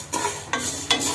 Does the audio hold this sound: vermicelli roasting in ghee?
yes